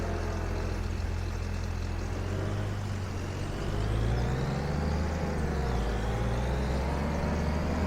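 A vehicle in Farming Simulator 25 driving over a trench in the ground, its engine a low steady drone that rises slightly in pitch midway, close and continuous with no talk.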